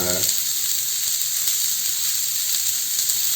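Chopped onion sautéing in a pan for vegetable dosa, a steady soft sizzle and hiss running unbroken throughout, moderately loud and close.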